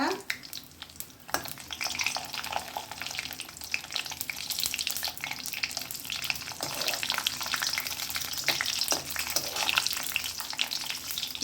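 Spices for white sambar crackling and spitting in hot tempering oil, a dense, steady sizzle with scattered pops and occasional stirring, close and continuous for about eleven seconds.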